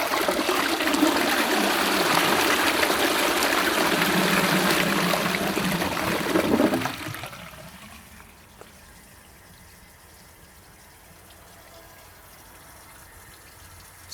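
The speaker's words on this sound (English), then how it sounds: "let's give it a flush." A restored J.T. Hull of Dorchester cast iron toilet cistern flushes with a loud, steady rush of water for about seven seconds. It then drops away to a quiet trickle and refill hiss, with no voices.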